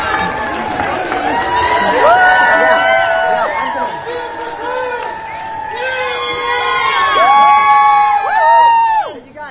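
Huge crowd of about a thousand people packed into the Indie Library, cheering, whooping and shouting loudly and continuously, with rising bursts of excited voices and yells close and far.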